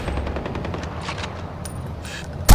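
Rapid automatic gunfire from a Far Cry 4 battle rattles on in a dense, steady stream for over two seconds, ending in one sharp, loud blast.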